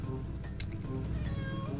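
A cat meows in the video game Spinster: A Cat Lady Game, a short pair of mews over a quiet game background, with no speech.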